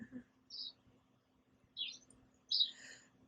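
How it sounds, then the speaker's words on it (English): Small birds chirp in the background outdoors, a few short high calls spaced apart over a low steady hum, faint but distinct. "Those birds sound so nice in the background."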